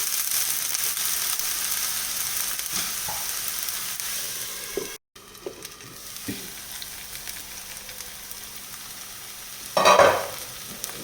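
A single onion frying in a pan, a steady close sizzle throughout with occasional stirring scrapes and a louder hiss near the end.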